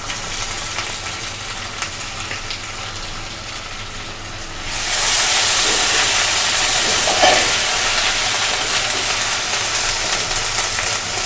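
Onions sizzle in a pan as cumin paste and onion paste go in. A soft, steady crackle swells suddenly into a loud, continuous hiss of frying that holds to the end.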